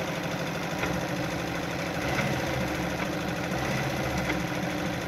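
A Brother Pacesetter ZZ2-B702F sewing machine stitching, its motor giving a steady, close, continuous mechanical whir with a rapid rhythmic needle chatter throughout.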